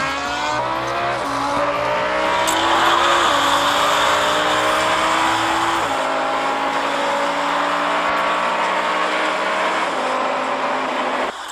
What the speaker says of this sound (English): The race started with the roar of engines.